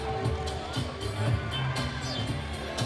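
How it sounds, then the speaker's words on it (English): Crowd applause and cheering after a women's Muay Thai fight decided by unanimous decision, a steady roar of clapping and crowd babble with an announcer's voice over the top. "And a big round of applause should go to Sylvia Van Douglas Edom."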